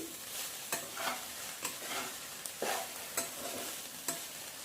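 Gongura chicken fried rice is stirred over a high flame, with a sharp scrape or tap about every second over a constant sizzle and no talking.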